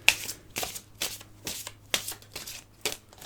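Tarot cards are shuffled by hand in a quiet room, giving repeated bursts of riffling and flicking at a steady rhythm, close and fairly soft, with a low steady hum underneath.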